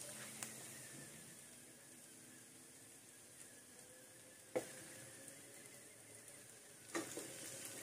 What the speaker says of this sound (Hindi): अब हमें इसे दो चम्मच की मदद से सब तरफ से अच्छी तरीके से मिक्स करना है